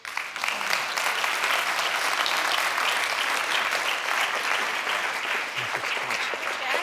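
A conference audience applauds to welcome panelists to the stage, a loud, sustained clapping that starts abruptly and holds steady throughout.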